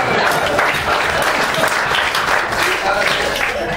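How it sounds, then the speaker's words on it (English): Dense audience applause fills a comedy magic show, loud and sustained with no break across the few seconds. "Give yourselves a big round of applause."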